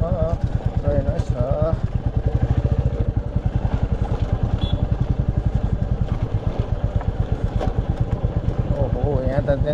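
A motorcycle engine thumps with a fast, even pulse on a rough mountain road in Rukum, Nepal. It runs loud and close throughout, with occasional clatter and people talking over it.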